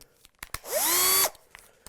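A small 1/8-inch bit in a power drill spins up with a rising whine and bores a hole into a guitar kit's wood for about half a second before stopping, with faint taps and handling noise around it.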